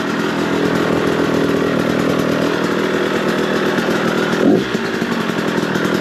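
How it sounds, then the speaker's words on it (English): A two-stroke dirt bike engine idles steadily in cold snowy weather, a loud, continuous, even buzzing drone with a brief rougher burst near the end, no voices heard. "You're going to want to let it idle a bit. It is cold."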